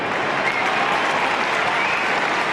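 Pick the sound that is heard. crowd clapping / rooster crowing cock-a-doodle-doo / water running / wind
crowd clapping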